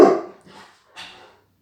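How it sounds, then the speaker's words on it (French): A dog barks at another dog passing by, one loud close bark followed by two softer, shorter yips or woofs with brief gaps between them. "Il y a mon chien qui est en train de voir un autre chien passer, et donc ça fait un potin"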